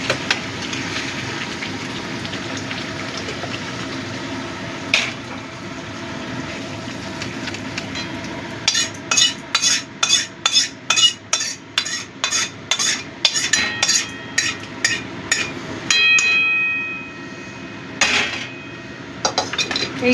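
Coconut prawn curry is transferred and stirred in a large wok, with a quick run of sharp metal spatula scrapes and clanks against the pan over a low background, and no talking.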